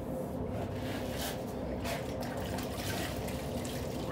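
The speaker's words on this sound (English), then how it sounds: "Now squeeze out as much water as you can." Water runs and splashes as it is squeezed out of a grout sponge while installing glass blocks with mortar, a steady close wet trickle lasting several seconds with no talking.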